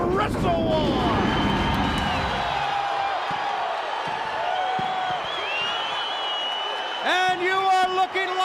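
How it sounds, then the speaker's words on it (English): Capacity arena crowd at WCW WrestleWar 1991, a broad roar of cheering and hubbub that fades, with announcer speech and music running over it. "a capacity crowd on hand"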